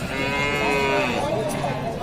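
A cow at the Özgön livestock market in Kyrgyzstan gives a single long, loud moo, close by and sustained, with faint market noise behind it.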